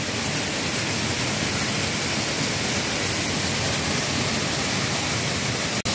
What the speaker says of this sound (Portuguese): E do lado é a cachoeira.